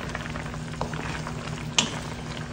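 Chicken adobo with vinegar boiling in a pot, a close, steady bubbling simmer with a low hum beneath and a couple of small clinks, no voices.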